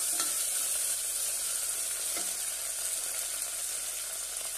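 Red chillies and curry leaves sauté in hot oil with a loud, unbroken hissing sizzle up close, plus a couple of light taps of stirring, and no speech.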